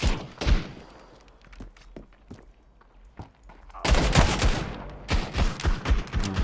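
Gunfire from a Desert Eagle pistol in the shooter game Standoff 2, with sharp single shots spaced out early on, then dense bursts of loud, close shots and echoing crackle near the end.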